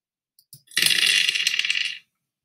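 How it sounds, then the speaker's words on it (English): Dice rolled during a classroom math game, giving a brief tap or two and then a bright, close clattering rattle that lasts about a second before stopping. "She's gonna roll the dice."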